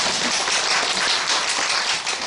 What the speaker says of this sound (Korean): 박수 치셔야 됩니다.